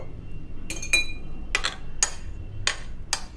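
A spoon clinks against a glass while nungu mango milk is stirred, producing about six sharp, bright taps at irregular intervals over a quiet background.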